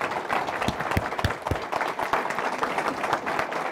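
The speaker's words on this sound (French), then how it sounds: "j'aimerais que vous applaudissiez" A room full of people at a transit authority board meeting applauds the board members steadily, dense clapping continuing throughout without anyone speaking.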